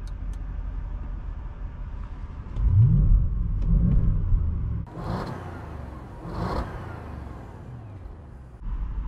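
An Audi S8 stage 1 in dynamic mode revs up in two or three bursts from idle, with a deep rumbling engine swelling and falling back, heard close and alone.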